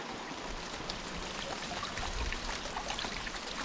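Water pours steadily into a bucket to fill water tanks at a flooded island campsite, a faint continuous trickle and splash with no voices.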